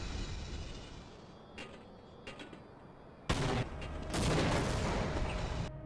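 An automated turret in the video game Half-Life fires, starting with a few scattered shots and then breaking into sustained bursts of rapid gunfire that grow louder and denser toward the end.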